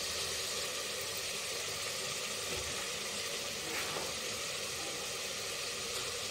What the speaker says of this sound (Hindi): फिर थोड़ी देर के लिए पकाएंगे जब तक हमारे टमाटर अच्छे से फ्राई ना हो जाए